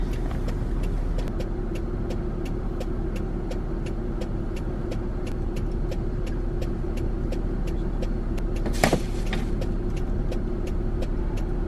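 A snow plow machine clears snow from around a house, its engine droning steadily and loud throughout with regular faint ticking and a brief harsher scrape near the end.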